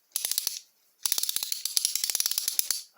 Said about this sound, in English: is a vintage stamped steel riveted ratchet, push-through ratchet, in a hex.